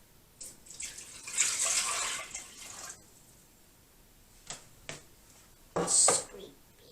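Oil poured into a bread machine pan for homemade gluten-free bread makes a short liquid splashing pour, followed by a few brief clicks and taps and a second quick splash, close and fairly quiet.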